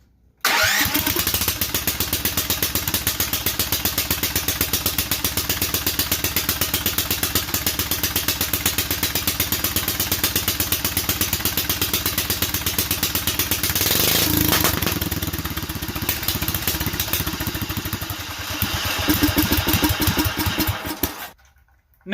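A Duromax 440cc engine cranks and fires, then runs with a loud, steady mid-pitched roar that roughens and sputters toward the end before cutting out, heard close up without speech.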